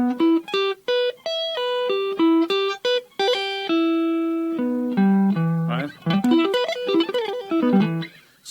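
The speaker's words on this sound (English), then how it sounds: "do a double time hammer on and pull off" An electric guitar plays a run of quick, clean single notes, with fast legato hammer-ons and pull-offs in double time toward the end, close and alone.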